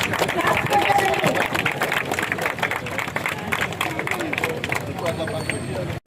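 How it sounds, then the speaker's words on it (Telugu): A crowd claps at a 2K run held in Naidupeta for Sardar Vallabhbhai Patel Jayanti, loud sustained applause and crowd noise mixed with someone speaking over it, cutting off abruptly at the end. "అది క్లాప్స్ కొట్టాలా"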